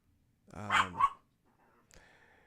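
Puppies let out one short, sharp double bark up close, followed by a faint, brief yip in an otherwise quiet room.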